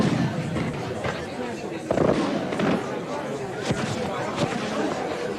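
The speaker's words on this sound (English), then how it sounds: "A spectacular firework display lit up the sky." Fireworks at Southport pier during the town's gala week, with scattered bursts and crackles sounding at a distance over a continuous crowd murmur, a few sharper pops standing out against the chatter.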